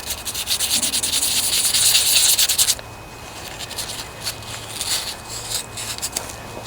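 Sanding scrapes steadily across rusty riding lawnmower parts, loud and continuous for nearly three seconds before easing into lighter, intermittent rubbing strokes.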